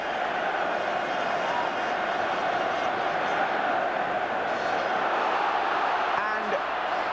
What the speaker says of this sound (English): And the Wembley crowd thrilled by that.